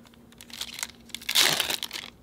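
A Yu-Gi-Oh OTS Tournament Pack 8 booster wrapper crinkles softly in the hands, then gives one louder, sharper tearing rip as it is pulled open, with no talking.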